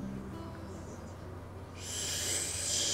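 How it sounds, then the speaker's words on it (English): Soft owl hoots in the video game Everlasting Summer, faint over a low ambient background, with a brighter hiss rising near the end. "You see the owl?"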